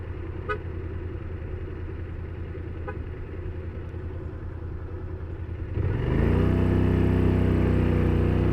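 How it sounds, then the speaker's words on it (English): Traffic noise hums steadily around a scooter at a light, then a car horn cuts in with a long, loud, sustained blast that holds to the end. "What's he honking at me for?"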